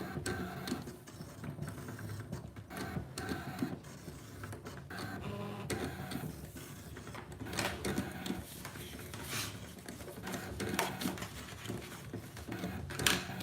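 A Brother ScanNCut cutting machine cuts paper frame pieces with a continuous whirring, clicking mechanical drone. The carriage moves back and forth in an even rhythm, close and steady throughout with no voices.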